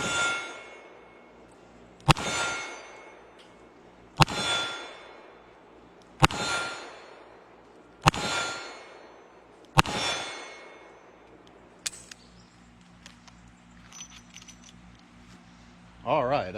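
Five sharp gunshots from a lightweight Smith & Wesson 329PD .44 Magnum revolver loaded with .44 Special, evenly spaced about two seconds apart and loud, each with a short ringing decay, followed by faint handling noise.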